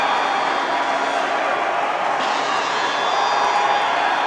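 A high school boys hockey crowd cheers after a shorthanded goal in an Ashland versus Amesbury game, a loud continuous roar of voices filling the rink without letting up.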